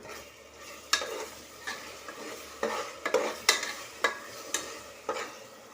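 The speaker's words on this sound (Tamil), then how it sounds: "இதையும் ஒரு தடவை வதக்கி விட்டுக்குவோம்." Ginger garlic paste and softened tomato being sautéed in a pan for quail biryani, with a steady low sizzle and a spatula scraping and stirring in repeated sharp strokes at an irregular rhythm, close and fairly quiet.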